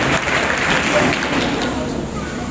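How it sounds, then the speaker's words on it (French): Dense crowd applause and cheering at a charismatic prayer assembly, loud and steady throughout, with voices mixed in. "Donne une acclamation au Seigneur."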